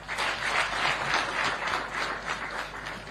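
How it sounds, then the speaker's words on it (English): Sustained applause from an audience at the close of a press conference with the president of Zambia, a dense even wash of clapping filling the room without a break. "Another round of applause."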